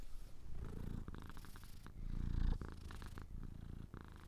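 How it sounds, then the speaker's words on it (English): A pet cat purring up close, a steady rhythmic low rumble with regular breathing pulses, briefly swelling louder midway, with no one talking. "Bit more cat."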